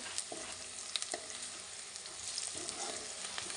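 Onions sizzle steadily in hot oil in a pan as they turn light brown, with a few soft stirring scrapes and clicks over the continuous frying hiss, close and moderately loud.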